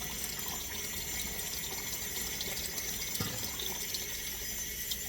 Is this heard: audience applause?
no